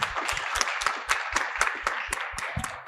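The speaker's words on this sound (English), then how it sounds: "So please, a round of applause to our colleagues from South Africa." An audience at a panel session on oceans and the G20 agenda claps in a brief, thin round of applause. The separate hand claps are distinct, fairly sparse and somewhat distant.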